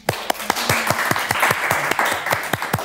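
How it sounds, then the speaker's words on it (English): Applause from an audience at a panel talk on public speaking, with a run of sharp, evenly spaced claps over a steady wash of clapping for about three seconds, close and moderately loud. "let's give a round of applause"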